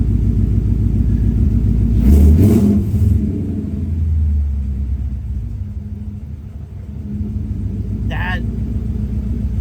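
A 1965 car's V8 engine idles after a cold start with a steady low rumble, rising briefly in a rev before settling back to an even idle.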